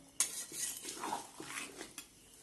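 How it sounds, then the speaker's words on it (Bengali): Biryani masala with ground cardamom is stirred in a pot for chicken biryani, with a metal spoon scraping and clinking against the pot in a few quick, close strokes, soft overall. "এটাকে ভালোভাবে আমি নেড়ে নিচ্ছি।"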